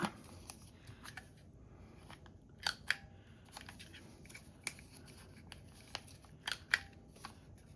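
Scissors snip around the edges of thin paper in a steady series of sharp, crisp clicks and crunchy cuts, close up and fairly quiet, with no talking.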